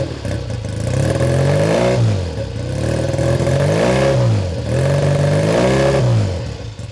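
A 1968 Triumph T100T Daytona twin motorcycle, heard up close at the exhaust, is revved repeatedly, climbing and falling in several smooth swells from idle, with a slightly rough, fluffy edge as it warms up.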